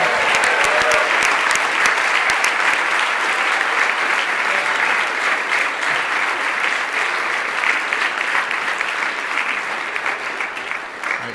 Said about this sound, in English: How about a round of applause for the press corps?